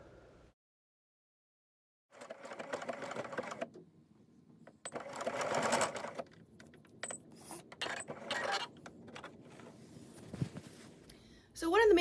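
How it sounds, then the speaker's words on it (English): A Singer sewing machine running pre-programmed specialty stitches: bursts of mechanical whirring and clicking that start and stop in uneven spells, moderately close, with a short quiet gap near the start. "Another great feature is all these pre-programmed specialty stitches."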